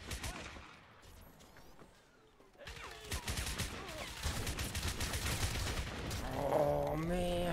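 Gunfire in Crysis, with bursts of rapid automatic shots rising after a quiet stretch into sustained, loud firing mixed with impacts and battle noise, while a voice talks over it near the end.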